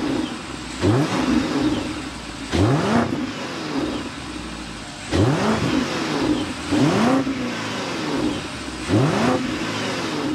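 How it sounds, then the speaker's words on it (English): A 2024 BMW X6 M60i twin-turbo engine revving in repeated bursts, each sharp rise in pitch falling away, about five throttle blips over a steady idling exhaust note, close and loud. "start up this twin turbo so you could hear that exhaust note"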